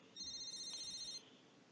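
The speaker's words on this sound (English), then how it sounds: "A beeping noise suddenly emanates from Mrs. Barazaki's pocket" A cell phone beeps inside a pocket in the Katawa Shoujo visual novel, one sustained electronic ringtone burst of about a second, clear and moderately loud, then fading to quiet room tone.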